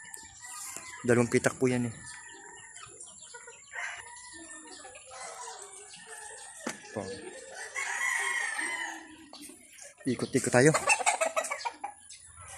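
Chickens and roosters on a Philippine farm, including hens kept in battery-type cages: loud rooster crows ring out twice amid scattered clucks and cackles, while someone talks intermittently in between.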